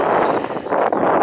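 Strong wind buffeting the microphone on a riverside walk beside the River Parrett near Pawlett, a loud, continuous gusting roar with no one speaking.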